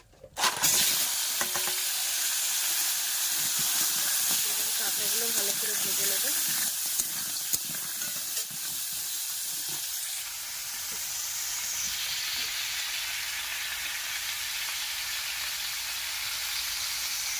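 Crab coated in salt and turmeric sizzles steadily in hot white oil in a wok, a loud continuous frying hiss with occasional stirring and a brief murmur of voice early on.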